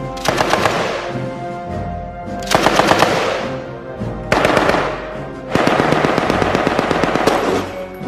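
A Japanese Type 92 7.7 mm machine gun fires four loud, close bursts of rapid shots with brief pauses between them.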